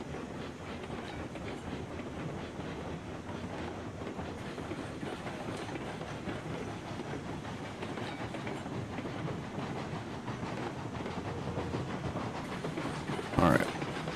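A steam locomotive in the railroad video game Railroads Online rolls steadily on its way to an iron mine with a continuous rumble and clickety-clack, and a brief louder hiss or clank comes near the end.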